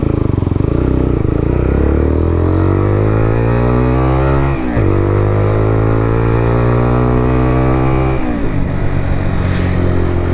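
An AJS R7 125cc sports motorcycle pulls away from a standstill, its engine climbing loud and close through the gears with two clear gear changes as it speeds up.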